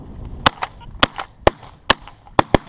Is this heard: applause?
no